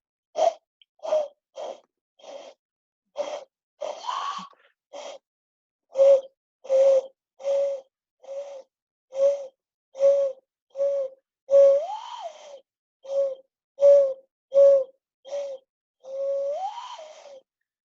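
A human voice imitates a dove's call, repeating a soft hooting coo about twenty times at a steady, unhurried pace, close and clear with silence between each note.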